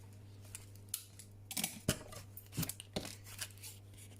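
Scissors cut through cotton fabric for a homemade sleep mask, making a few soft, scattered snips and rustles at close range over a low steady hum.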